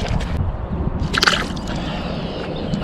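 A released bass thrashes and splashes at the water's surface right beside the angler, a close, messy burst of sloshing and dripping over continuous water noise.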